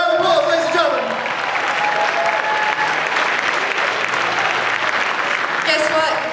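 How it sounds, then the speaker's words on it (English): Loud, continuous applause from a convention crowd for a cosplay contestant at Supanova Gold Coast 2016, dense clapping with a few cheers, and an announcer's voice over the start and end. "Give her a round of applause, ladies and gentlemen."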